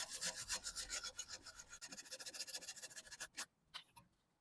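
A brush or tool scrubs rapidly at the rusty, corroded bolt thread on a 2009 Toyota Yaris front strut. The gritty rasping is fast and close, slows into a few separate scrapes, and ends quietly.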